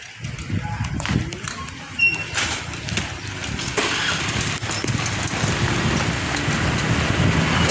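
Heavy rain pours steadily onto a house roof during a satellite dish installation, a dense continuous hiss with gusty wind noise on the microphone and occasional knocks, filling the whole clip.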